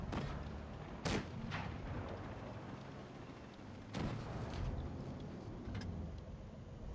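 Tank cannon shots from a Pz.Kpfw. IV in the World of Tanks Blitz video game, with two sharp booming blasts a few seconds apart over steady engine and battle rumble.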